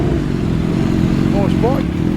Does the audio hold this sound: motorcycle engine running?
yes